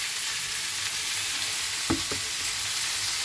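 Four or five large sliced onions fry in hot oil in a wok for chicken biryani, giving a steady close sizzle throughout, with a couple of brief utensil knocks near the middle and no voices.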